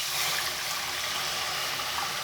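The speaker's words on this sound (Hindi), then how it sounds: "तो जनाब अब जितनी हमने ग्रेवी रखनी है तो इतना मैं इसमें पानी डाल देती हूँ।" Water is poured into a pan of cauliflower kofta curry gravy, a steady close rushing and splashing pour that continues for the whole stretch with no talk.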